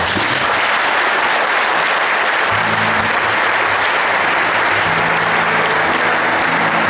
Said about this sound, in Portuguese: Jesus merece uma grande salva de palmas.